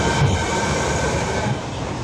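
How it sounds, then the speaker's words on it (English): A train rumbles steadily nearby at a station in Fukuoka, Japan, a continuous low mechanical roar with faint rail noise. "Well, there's our train."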